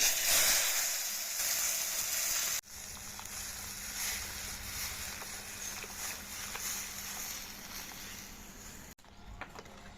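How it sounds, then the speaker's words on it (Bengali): Lentil dal poured into a hot tempering of fried mustard seeds and whole dried red chilies, for a sour mango dal, gives a close, steady hiss and sizzle that breaks off abruptly a couple of times and then settles back. "ডাল ঢেলে"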